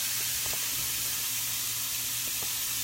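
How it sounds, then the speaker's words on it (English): Zucchini noodles sizzle in a pan with a little olive oil, a steady close hiss of frying that runs alone and unbroken throughout. "I put them in a pan with a little bit of olive oil, and I'm gonna let them cook through just a little bit"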